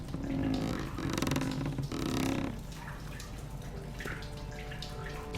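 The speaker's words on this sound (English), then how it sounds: "Okay, so I guess it's filled with water now." A bucket fills with water in Amnesia: The Dark Descent, with a few seconds of rushing, pulsing pour that stops abruptly, leaving a quiet ambient hum.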